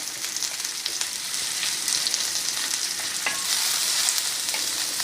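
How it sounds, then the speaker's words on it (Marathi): Chopped onion fries in a pan for a spicy Marathi amti, making a steady close sizzle with faint scraping stir sounds that grow slightly louder toward the end, with no one speaking. "चांगला गोल्डन ब्राऊन रंग येईपर्यंत परतून घ्यायचा आहे."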